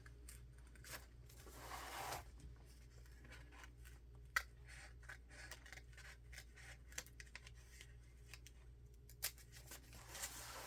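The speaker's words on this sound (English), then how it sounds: "And I'm just going to cut around." Scissors cutting around a circle in a journal page: quiet, close snips and paper scrapes in an irregular series of soft clicks over low background hum, no talk.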